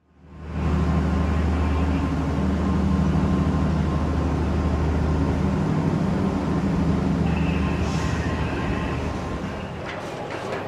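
A long Kertajaya passenger train, running as the Ambarawa Express, rumbles steadily at a station with loud, continuous low-frequency wheel and engine noise that eases slightly near the end; no one speaks.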